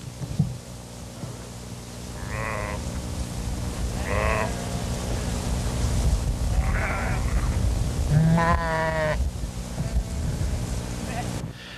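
Grazing sheep on rangeland bleat four or five times at intervals, clear and fairly close, over a steady outdoor background hum while a voice speaks.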